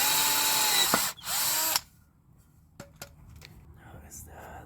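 A WORKPRO mini drill bores through wood in two short, loud whining bursts close by, followed by quieter clicks and handling noises.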